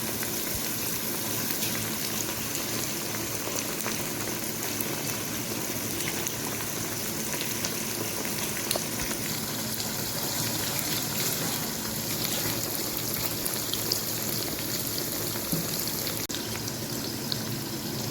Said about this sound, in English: Add 500 grams washed, peeled and thinly sliced bottle gourd. Fry for 5 minutes.